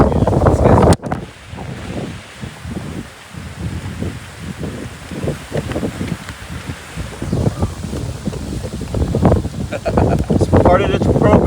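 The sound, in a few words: wind blowing on microphone outdoors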